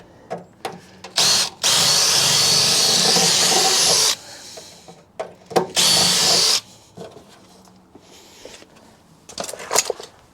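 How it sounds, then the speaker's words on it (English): A power drill drilling out rivets on a car under prep work: loud close high whine in several bursts, two long and a few short stabs, separated by quieter gaps of handling noise and faint background. "should we try and drill out these while we're mucking around in here?"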